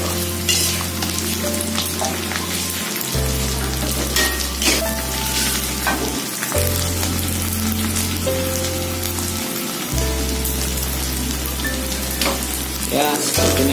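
Petai (stink beans) fry in a pan with a steady, loud sizzle that runs unbroken throughout, over deep rhythmic background music.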